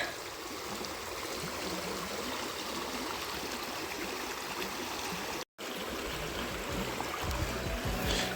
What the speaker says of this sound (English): Step 3, invert and let water drain into preferred receptacle.